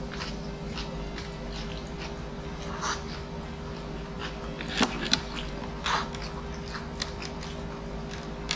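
Someone eats munggo (mung bean) food, with soft, close chewing and occasional wet bites and clicks scattered over a low steady background hum.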